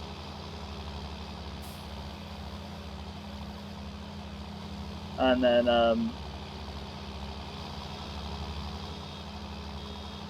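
Tractor engine idling steadily in a realistic farming video game, a constant low throb throughout, with someone speaking briefly over it.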